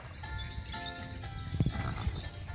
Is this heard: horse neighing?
yes